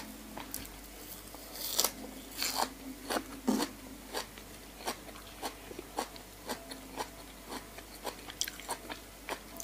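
Crisp, crunchy bites and chewing of raw radish eaten with a Thai fermented fish sauce noodle salad, with close, irregular crunches and softer chewing in between and no talking.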